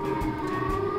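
Siren Head monster blaring in Garry's Mod, a loud steady droning wail with sustained tones and a slight waver, close and unbroken for about a second.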